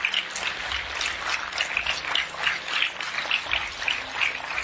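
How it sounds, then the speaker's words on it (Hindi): Audience applause at an indoor health awareness program, a steady wash of many hands clapping at moderate loudness throughout, with no talk over it. "तो हो जाए एक जोरदार तालियां आपके सेहत के नाम पे"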